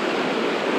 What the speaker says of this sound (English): I can hear the creek.